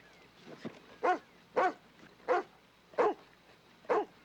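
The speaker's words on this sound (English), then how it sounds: "What a goofy dog." A dog barks repeatedly at fairly even intervals, six or so sharp barks, a little distant, with no talking between them.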